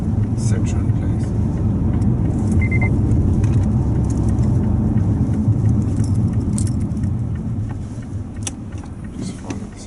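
Inside a moving Mazda 3 with 2-litre petrol engine on a road test, a steady low rumble of road and engine noise runs throughout, with faint rattles and a short beep, while people talk over it.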